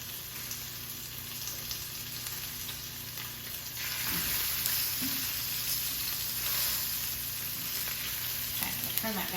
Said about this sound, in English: Now I'm going to add the salmon, okay? You hear that nice sizzle, and that is what we're going for.